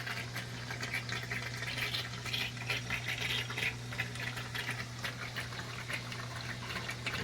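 Water runs steadily while being siphoned out of a tank holding freshwater crayfish, a soft continuous trickling and gurgle over a low, constant hum, with no voices.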